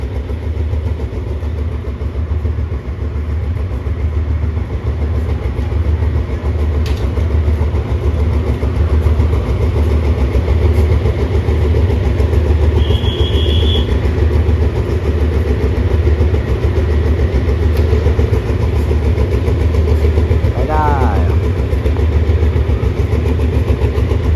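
A steam locomotive hauling a special Bangkok–Ayutthaya passenger train rumbles loud and steady for a long stretch, a deep continuous mechanical drone with a brief high tone partway through and a short swooping squeal near the end.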